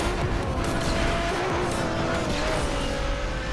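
A Peugeot 9X8 racing car in Asphalt 8 gives a loud, steady booming engine roar that runs without a break, with hints of tire squeal and skidding in the mix.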